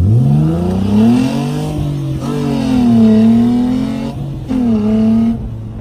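A powerful rear-wheel-drive car's engine revs close up, pitch climbing and falling through several loud sweeps with short breaks between shifts.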